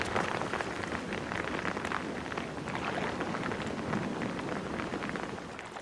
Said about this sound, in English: As soon as the rain passes,